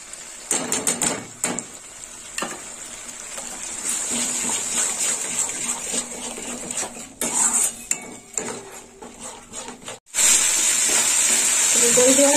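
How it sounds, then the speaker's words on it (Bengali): Whisked yogurt goes into a pan of frying eggplant for dahi baingan: utensils clatter against the pot at first, then a sizzle rises and turns to a loud, sustained hiss near the end. "দইটা এবার দিয়ে দেবো।"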